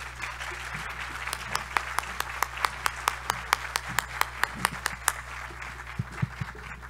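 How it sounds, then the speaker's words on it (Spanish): Audience applause at a university accountability ceremony, a steady mass of clapping with sharp individual claps standing out, sustained at moderate level over a low constant hum. "vamos a darle un gran aplauso a nuestra rectora"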